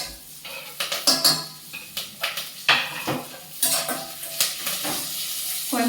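Chopped green chillies and onion tipped into hot spiced oil for vegetable biryani: a bright sizzle rises as a spoon clinks and scrapes against the pan in irregular bursts, close and fairly loud.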